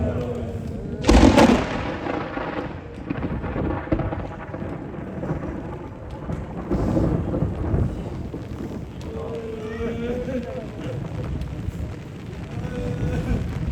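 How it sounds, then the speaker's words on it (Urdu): Rain falls with thunder, a sudden loud crack near the start followed by a steady hiss and rumble of downpour, with people talking underneath. "اب بارش بھی شروع ہو گئی، کیا پروگرام ہے؟"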